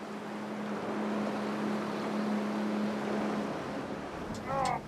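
Motorboat engine droning steadily in the open among mangroves, a constant mid-level hum with wind and water wash, faint voices near the end.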